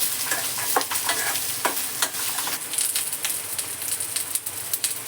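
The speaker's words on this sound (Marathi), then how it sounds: "आपण थोडीशी जिरे टाकतोय कढीपत्ता आता मस्त असं परतून घेऊया आपण" Cumin seeds and curry leaves sauté in hot oil for upma, a constant crackling sizzle broken by sharp spatter pops and stirring scrapes, close and steady with no voices.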